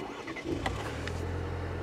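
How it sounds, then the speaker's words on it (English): A 2023 Chevy Colorado engine cranks briefly and settles into a low, steady idle, close and moderately quiet, with no voices. "You have to turn the vehicle back on."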